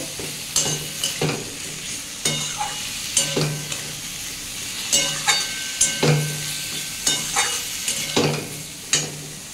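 Banana blossom sautéing with chili and cumin powder, a spoon scraping and stirring through the pan in a regular rhythm of sharp strokes over a constant sizzle, close and clear with no talk.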